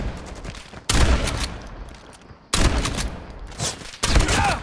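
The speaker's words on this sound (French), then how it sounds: "lui, il a un fusil à pompe automatique" Automatic pump shotgun firing in a video game shootout: three sharp, loud blasts spaced over a few seconds, each trailing off into a decaying rumble.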